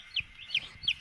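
A chick playing with puppies gives three evenly spaced, high, thin cheeps in quick succession, faint and close, with no talk.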